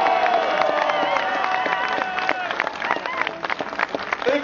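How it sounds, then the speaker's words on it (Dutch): An outdoor crowd at the Brabantse Pijl cycling race ceremony applauds and cheers for rider Filip Gilbert. Clapping and shouting voices mix into a busy, moderately loud wash with some calls rising above it. "Graag nogmaals met uw applaus voor Filip Gilbert"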